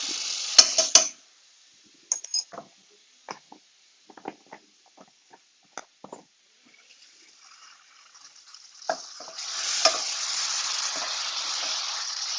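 Four cloves of garlic hit melted butter, giving loud bursts of sizzling at the start and end with sparse clinks and stirring taps in between; a steadier frying hiss builds toward the close.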